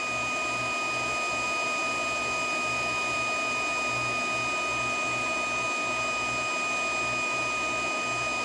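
An induction coil heater hums steadily as it heats a metal part toward cherry red, a constant electrical drone with a faint pulsing low throb running unbroken throughout, with no talking.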